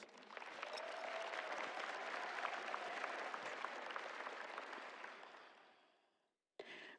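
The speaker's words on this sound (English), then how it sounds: "Class of 2026, give yourself a round of applause." A graduating class at an Eastmoor Academy graduation ceremony applauds in a steady, dense wash of clapping that holds for about six seconds, then fades away, followed by a brief burst of noise.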